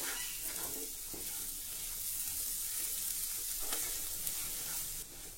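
Masala with carrots, peas and soft tomatoes hisses continuously in a pan under a spatula, with stirring scrapes repeating throughout before the sound drops slightly near the end. No one speaks.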